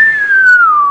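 A man whistles in a 1979 Romanian radio play, a single sustained whistled tone that glides slowly downward in pitch, loud and close, with no speech over it.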